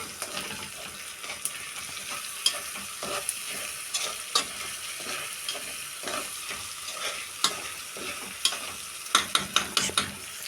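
Garlic, dried coriander, black pepper, seven-spice, paprika and chili frying in a pan for an Egyptian freekeh tagine, with a steady close sizzle and repeated scraping stirs throughout.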